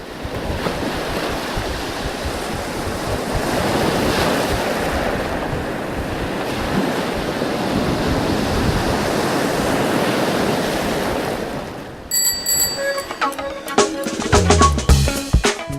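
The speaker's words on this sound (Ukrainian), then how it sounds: "неспокійне море, вид і голос якого постійно занурюють нас у мрії" Rolling waves of a rough Black Sea wash onto a Bulgarian beach with a rushing surge and wind buffeting the microphone, then a clattering, music-like sound takes over near the end.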